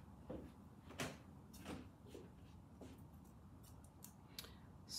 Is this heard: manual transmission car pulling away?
no